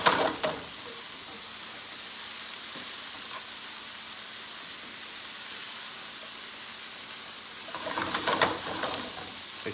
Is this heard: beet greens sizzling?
yes